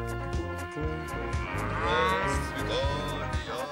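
Cattle in the Allgäu moo with long, deep, drawn-out calls that overlap, close and loud, with no talking.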